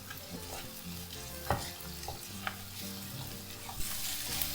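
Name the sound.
sautéing Peshawari chicken masala in kadhai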